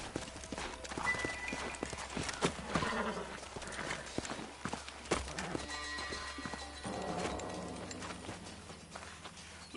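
Horses' hooves clip-clop across the ground in the Red Dead video game, an uneven run of moderately close hoofbeats with a rustle of movement around them and a faint whinny, under quiet in-game ambience.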